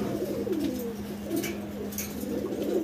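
American Lakka fancy pigeons coo in low, soft, repeated calls close by, layered over a steady background hum.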